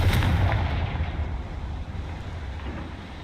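A Confringo spell blast in the Hogwarts Legacy video game lands as a heavy, booming explosion at the start, then rumbles away into a fading, crackling tail.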